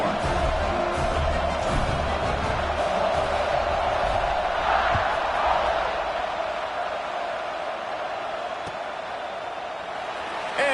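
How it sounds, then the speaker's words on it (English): Stadium crowd noise in the College Football 26 video game, a steady broad roar and murmur of a buzzing crowd after a touchdown, continuous and fairly loud throughout under a commentator's voice. "this crowd is buzzing after that last score"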